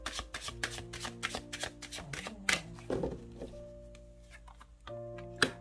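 Tarot cards are shuffled in quick crisp riffles and flicks at close range, a rapid series of papery snaps with short pauses, over a faint background musical drone.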